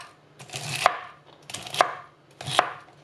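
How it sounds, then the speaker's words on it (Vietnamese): A knife chops through celery on a board in three crisp, evenly spaced strokes, each a sharp crunch followed by a short pause, close and clear, with no talking. "Hai trăm gram cần tây cộng thì mình cắt ra"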